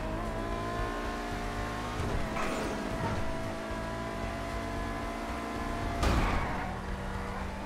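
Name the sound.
car sliding in video game GTA Online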